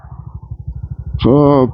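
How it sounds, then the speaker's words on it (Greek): A new moped engine sputters, giving a brief uneven run of low, pulsing putters, and then a voice cuts in loudly over it. "Να είσαι παιδιά το μηχανάκι να σου σκοτσάρει."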